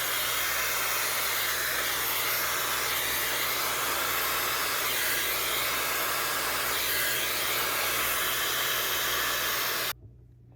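Dyson hair dryer fitted with a diffuser blows steadily over damp curly hair, a loud, continuous broadband whoosh with a low hum underneath that runs unbroken for about ten seconds before cutting off abruptly.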